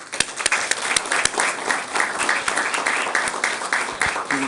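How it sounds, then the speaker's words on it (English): Audience applause at an Inglewood city council meeting: dense, steady clapping from many hands that holds at a fairly loud level for several seconds without a break. "let's give them another round of applause"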